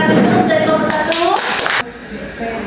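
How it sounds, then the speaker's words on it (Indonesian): A school class applauds a student group during a teaching practice session, giving a short burst of clapping that overlaps a speaking voice and ends abruptly. "Oke, beri tepuk tangan dulu dari kelompok 1."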